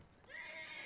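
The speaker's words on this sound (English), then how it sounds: "I'm approaching the horse" A horse in the video game Red Dead Redemption 2 neighs, a rising then sustained whinny, fairly close and clear over a low background.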